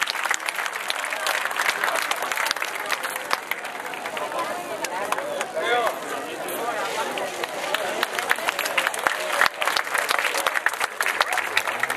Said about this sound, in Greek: Δυνατό χειροκρότημα είπαμε